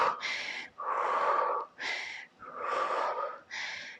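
Heavy, forceful exhales and gasping breaths during a home thigh workout without equipment, in about five loud, rhythmic bursts with short pauses between them and no talking.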